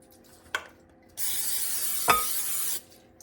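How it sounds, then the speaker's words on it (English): A short hiss from a cooking spray can sprays onto bread dough steadily for about a second and a half, with a light click and a clink just before and during. "I'm actually going to spray it a little bit."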